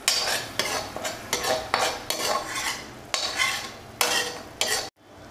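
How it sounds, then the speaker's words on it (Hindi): A spoon scrapes and stirs chickpea masala rhythmically in a pan, about a dozen strokes over a soft sizzle in a little oil, close and clear, ending abruptly. "और इसको अच्छे से भून लूंगी।"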